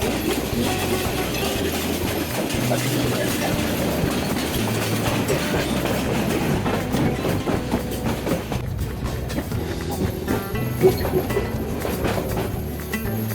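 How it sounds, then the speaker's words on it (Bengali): A train rumbles and clatters along the rails as it pulls into Dhaka Airport railway station, steady and fairly loud, wheels clicking, with faint birds in the background. "ট্রেন প্রবেশ করছে ঢাকার বিমানবন্দর রেলওয়ে স্টেশনে"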